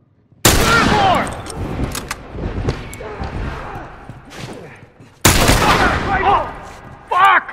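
Gunfire from a shooter video game crackles in sharp bursts, a loud volley at the start and another near the end, with scattered shots and game noise between them.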